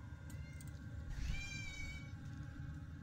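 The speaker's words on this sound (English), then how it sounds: "I hear a cat mewing outside" A cat meows once, a rising then falling cry of about a second, heard indoors from outside, with a steady low hum underneath and no talking.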